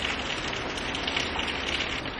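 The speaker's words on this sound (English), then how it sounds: "Can you hear the rain?" Steady rain falling outside a cracked-open window, a dense, even hiss of drops on surfaces that stays close and fairly loud throughout, with no voices over it.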